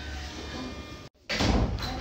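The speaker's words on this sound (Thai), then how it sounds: "เปิดประตูแล้ว" A household door opened, a short thud then a brief near-silence before room noise returns louder, with a voice and talking around it.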